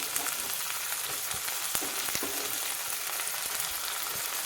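Tomato fries in a pan for a banana flower curry, giving a steady dense sizzle with a few faint utensil taps, close and fairly quiet.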